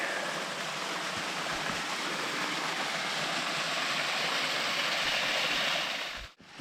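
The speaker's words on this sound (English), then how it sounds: "see if I can find the beginning of this stream here" A mountain stream in an Appalachian forest on Horn Mountain in North Georgia flows with a steady, broad rushing hiss of water, continuous and fairly near, with no talking over it.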